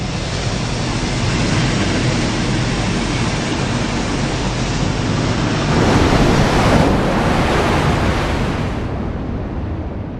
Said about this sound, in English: Splashing a full-sized wave on another boat